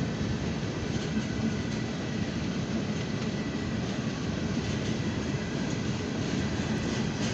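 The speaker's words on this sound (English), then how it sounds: "Yes, folks, this is a long coil CSX northbound train here on track one, here in Lima." A long northbound CSX freight train loaded with steel coils rolls past on track one in Lima, a loud continuous rumble and rattle of wagons and wheels sustained throughout without pause.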